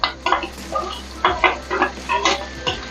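Whole cumin and ginger paste fry in a pan, heard as a series of short scraping stir strokes with a light sizzle between them, close and fairly loud.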